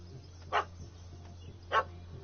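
Dog barking inside a PS4 video game: two short barks about a second apart, moderately loud above a steady low in-game hum, with no speech.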